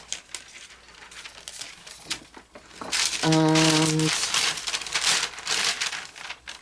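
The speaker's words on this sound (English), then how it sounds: "sorry about that rustling" Paper rustles close by during an adult colouring session, a run of soft crinkling and crumpling bursts that swell louder midway, mixed with a short tonal beep.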